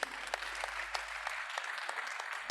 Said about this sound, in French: je voudrais qu'on applaudisse pour les jeunes qui sont nombreux ici